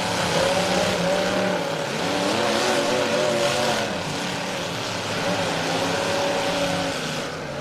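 A pack of race cars drives through a corner at the dirt track during the King of Ohio event, their engines making a loud, continuous roar that rises and falls in pitch as the cars pass in a close group.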